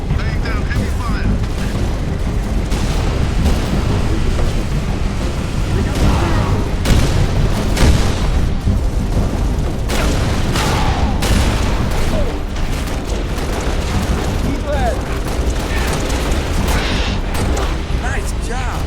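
Heavy gunfire and booming explosions fill a Halo Reach video game battle against a hostile dropship, dense and continuous throughout, with voices calling out over the combat.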